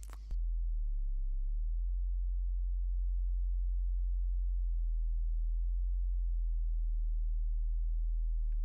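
A pure low sine tone at about 50 Hz or below hums steadily and alone, following a brief click at the start, with almost no sense of pitch.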